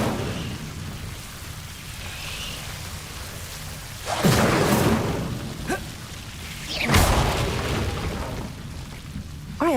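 Fiery spell blasts from the Incendio fire charm in Hogwarts Legacy, two loud whooshing bursts a few seconds apart over a low rumbling game ambience, with no talking.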